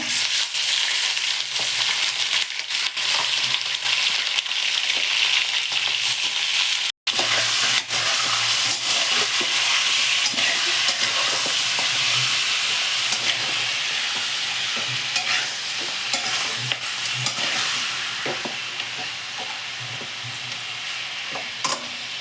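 Mutton fries in a pan with cloves, curry leaves and mint, giving a loud, continuous sizzle and hiss with occasional stirring scrapes, uninterrupted apart from one brief dropout.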